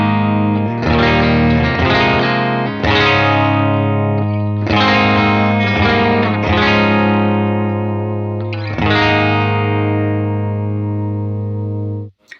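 Electric guitar through pedalboard drive pedals into a UA Dream 65 amp pedal: several loud, driven chords struck and left to ring in a slow sequence, each fading before the next, ending in a quick cutoff.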